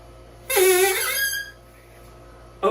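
A homemade drinking-straw reed instrument gives one loud, bright, buzzy squeak lasting about a second, followed by quiet and a brief second burst at the very end.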